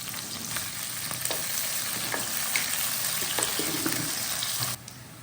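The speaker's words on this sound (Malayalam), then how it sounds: "ഇതിനകത്ത് നമ്മളിനി ഉള്ളി അരിഞ്ഞത് ഇടുന്നു ഒന്ന് വഴറ്റിയെടുക്കണം" Chopped onion sizzles steadily in a hot pan as it sautés, a loud, even frying hiss with occasional stirring clicks and scrapes, ending with a brief drop in volume; no talking.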